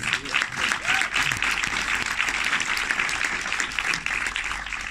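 An audience applauding at a French presentation event, steady close clapping that swells and holds throughout, with faint voices underneath.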